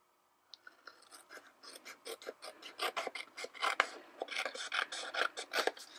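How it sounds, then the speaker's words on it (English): Scissors trim the edge of a paper card in a series of quick, close, raspy snips that speed up into a steady cutting rhythm. The clip is quiet, with no voices. "I'll just take a scissor and trim that right off"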